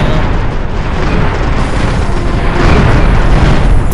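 Buildings blowing apart in the strategy game Empire Earth 2, a loud continuous roar of overlapping explosions and booms with no pause, heavy and close.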